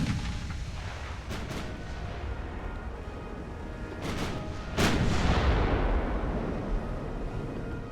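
A warship's 2.9-inch ammunition detonates in the naval game Ultimate Admiral: Dreadnoughts: sharp blasts at intervals, the last and loudest leaving a sustained heavy roar over a constant low rumble of battle.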